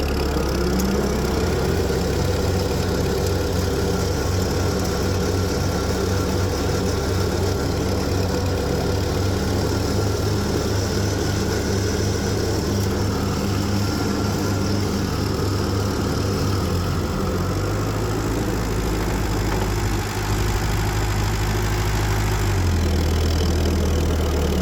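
An old Ford tractor left out in the rain for years idles out of gear, a steady low rumbling chug throughout, close and loud, with a slight shift in engine tone near the end.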